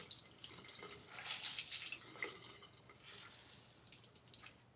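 Cool water splashes and drips while a lemon and raw honey face scrub is rinsed off, soft irregular splashing close by at low level, with no talking.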